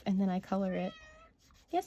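Fennel the cat gives two insistent meows close by, and a person speaks quietly over the end of the second one.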